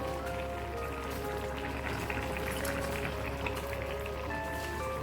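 Dissolved coconut milk powder stirred into a simmering sardine fish curry in a pot, a steady close bubbling and sizzling hiss with soft liquid pops, continuous and alone.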